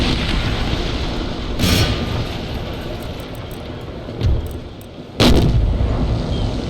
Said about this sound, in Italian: Stiamo ricaricando pian piano i cannoni. Giriamoci per bene, diamogli l'ultima bordata.